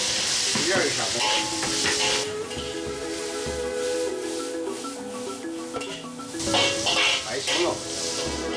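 Vegetables stir-fried in a hot wok: loud sizzling and hissing with scraping stirs throughout, swelling in bursts as food is tossed, with a voice speaking over the cooking.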